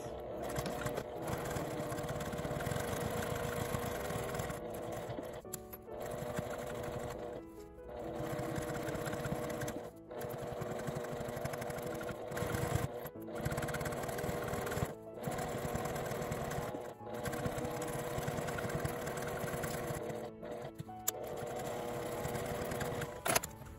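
A sewing machine stitches around the opening of a fabric wallet with an L-shaped zipper, running in a steady close whirring drone with several brief pauses between runs.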